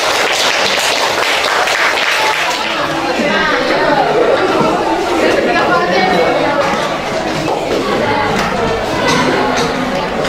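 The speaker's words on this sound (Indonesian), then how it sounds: "Kita tepuk tangan untuk kelompok satu." A class audience applauds a presenting group, scattered clapping blended into loud, continuous crowd chatter throughout.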